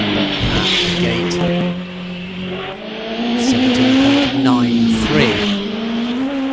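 A supercharged 1300 race car accelerates hard off the line at the Wiscombe Park hillclimb, its engine note climbing loud and close through rising revs while a commentator talks over it.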